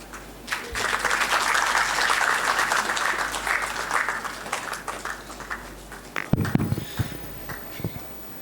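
An indoor audience applauds three presenters, a dense wash of clapping from many hands that swells, holds for several seconds, then thins out into scattered claps and a few close rustles and sniffs.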